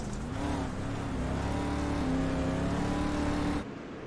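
A street stock race car engine, heard onboard at an indoor dirt track, drones loudly and steadily at high revs throughout before cutting off abruptly near the end.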